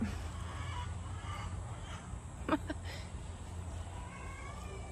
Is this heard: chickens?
yes